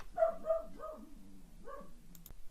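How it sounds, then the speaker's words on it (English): A pet dog indoors gives a quick run of several barks early on, then quieter yelps trailing off, followed by a couple of sharp clicks near the end. "see now my dog's barking"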